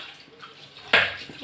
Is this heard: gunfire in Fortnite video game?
no